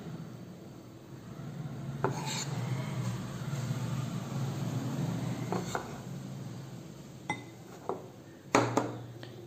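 A spoon scrapes and rubs through thick eggless brownie batter as cocoa powder is mixed in a bowl, a steady low swishing with occasional clinks of utensil against the bowl, close and moderately quiet.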